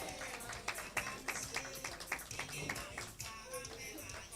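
Scattered clapping from an audience at a women's rights organizations festival, a mix of sharp individual claps over a low room murmur, moderately loud and uneven rather than a full ovation.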